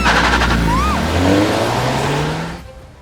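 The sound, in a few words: car being driven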